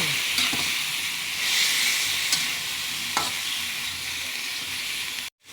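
Chicken sautéing with aromatics sizzles steadily in a pan for tinola, with a few sharp scrapes and clacks of stirring; close, continuous frying hiss and no talk.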